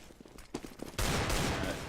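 Desert Eagle pistols firing in a CS:GO match on Dust 2, with a few close sharp reports giving way to a loud, continuous burst of gunfire.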